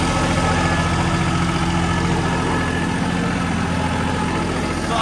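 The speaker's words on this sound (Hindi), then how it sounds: "बिल्कुल साइलेंट इंजन चल रहा है" A New Holland 5620 CRDI tractor engine runs at a steady idle, a close, continuous low diesel rumble with an even throb throughout and no speech.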